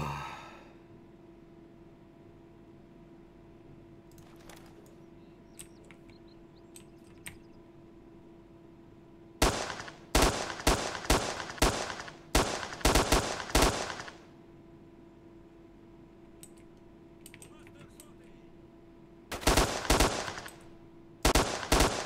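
Gunfire in S.T.A.L.K.E.R. Shadow of Chernobyl: after a quiet stretch, loud bursts of rapid automatic shots break out, pause, then return in another short volley near the end.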